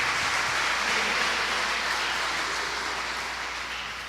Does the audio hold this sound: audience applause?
yes